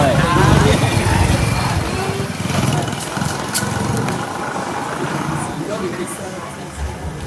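A local motorbike engine runs in Nigeria, its drone sitting under people talking and background crowd babble.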